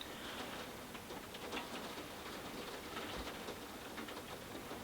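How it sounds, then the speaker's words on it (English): Steady rain on the roof of an attic on a dark evening gives a soft, even hiss with faint scattered taps, continuous throughout and without any voices. "And the rain has returned. You can really hear it when you're sat up here in the attic."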